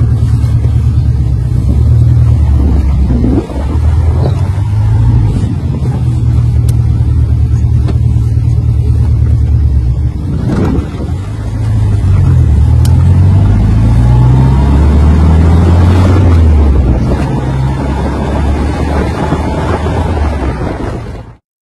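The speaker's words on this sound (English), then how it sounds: "A Morgan 1972 4-4 1600cc Ford Kent Crossflow engine." A 1972 Morgan 4/4 with a 1600cc Ford Kent Crossflow engine drives on a test run, its engine droning loud and close, rising through gears with shift pauses and wind rush over the microphone.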